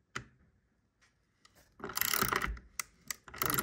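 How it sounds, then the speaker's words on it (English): A bolt is hand-tightened while timber roof rafters clamp together against an RSJ steel beam, giving a series of close creaking, ratcheting clicks and grinding bursts, with louder pulses toward the end. "the wood clamping together nice and tight, and that bolt is tightening right in"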